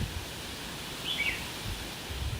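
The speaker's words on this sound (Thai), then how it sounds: "ได้ยินเสียงลมไหม" Wind blowing steadily outdoors at a house in a housing estate in Khon Kaen, Thailand, a soft continuous rush with faint rustling and no voices.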